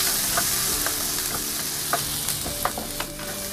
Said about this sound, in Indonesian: sisakan sedikit minyak, tumis bawang putih, bawang merah,